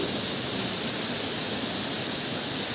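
Steady, dense roar of heavily rushing floodwater at Thirupulinadu waterfall in the Kolli Hills after heavy rain, loud and continuous with no voices, pouring nearby.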